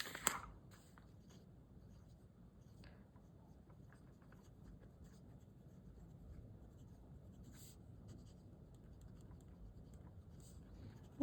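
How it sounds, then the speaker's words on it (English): Pen with shimmer ink scratching steadily across paper, a soft continuous close-up scrawl with a few sharper strokes, very quiet and alone. "I'm just going to write shimmer ink"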